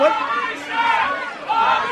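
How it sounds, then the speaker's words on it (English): A rowdy crowd at a St. Patrick's Day contest chanting and yelling together for Bobby Shaft, loud and continuous with rising and falling waves of voices. "They're chanting for Bobby Shaft"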